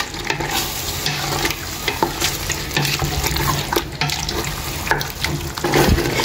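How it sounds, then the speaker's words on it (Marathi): Chicken with curd and spices fries over a high flame, a continuous loud sizzle broken by repeated stirring and scraping strokes against the pan. "हे सगळे कर्ड आनी 2 मसाले घायलायचे तेका बरें मिक्स करून घेता चिकनाचे बराबर गाईज"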